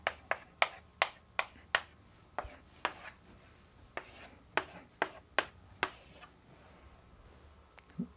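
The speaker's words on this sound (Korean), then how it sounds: "창세라고 하는 걸 이렇게 써요" Chinese characters are written by hand, most likely with a marker on a board, as a dozen or so crisp, separate taps and strokes at an uneven pace. The sounds are close and clear, with no talking.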